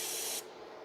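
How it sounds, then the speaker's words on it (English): Brake cleaner sprays from an aerosol can onto a clutch control cable for a 2010 Toyota Corolla 1.8: one short, loud hissing burst that cuts off abruptly, leaving quiet room tone. "Spray some brake cleaner"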